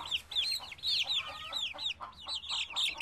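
A mother hen clucks in a children's story, rapid repeated calls in a steady rhythm filling the clip, close and fairly loud with no talking.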